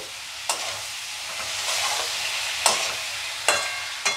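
Spices fry in a pan for aloo capsicum curry, a continuous hissing sizzle broken by a few sharp spatula scrapes against the metal, close and alone without voices.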